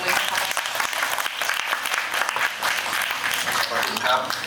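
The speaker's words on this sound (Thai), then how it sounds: "ขอเสียงปรบมือค่ะ" An audience applauds at a talk event with ASEAN writers, a busy, fairly loud clatter of many hands clapping, sustained throughout, with some voices mixed in.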